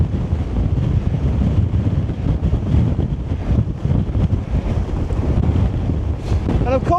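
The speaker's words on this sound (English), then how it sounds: "it's because the wind's blowing" Strong wind roars steadily across an open camping ground, buffeting the microphone with a constant low rushing noise from start to finish.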